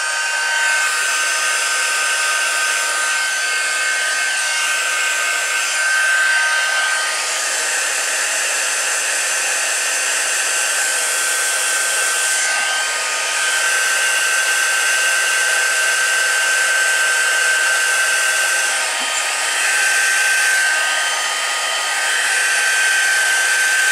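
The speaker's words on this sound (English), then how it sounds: "In with the heat tool. Sorry about the noise." A heat embossing tool blows continuously over a card, a loud steady hiss with a whine that runs unbroken for the whole stretch, close to the mic, with no talking over it.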